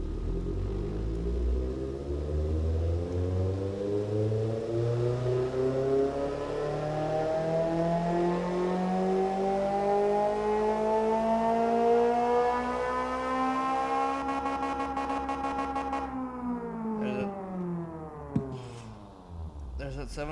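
Engine making 701 horsepower in an engine shop revs in one long sustained sweep, pitch climbing steadily then falling near the end, loud and close with a rough rumbling tone.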